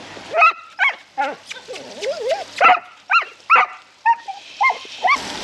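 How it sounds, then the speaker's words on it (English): A dog barks and yips repeatedly in short, irregular bursts, some with whiny, wavering tones, close and loud. "He's a nervous dog, he's an anxious dog"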